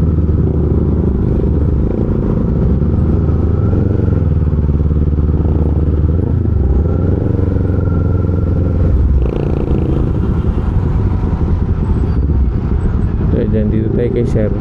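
A Suzuki Raider motorcycle rides through heavy traffic on Sucat Road, its engine rumbling steadily close by among surrounding car and road noise, with a person talking over it throughout.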